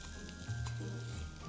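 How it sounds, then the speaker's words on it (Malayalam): Grated coconut frying in a little coconut oil gives a steady close sizzle with a few soft stirring scrapes, with no voices. "ഞാൻ ഇച്ചിരി എണ്ണ ഒഴിച്ചങ്ങ് വറുത്തെടുക്കാം"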